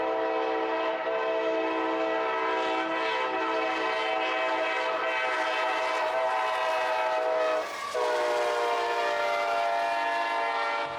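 A Conrail freight train with a boxcar up front passes, its horn sounding loud and sustained, its chord held throughout with a brief dip near the end over the rumble of the cars.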